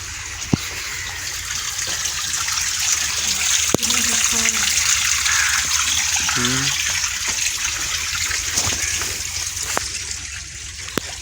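Water rushes and gushes in a steady, continuous flow into a garlic field, with a few brief, faint voices in the background.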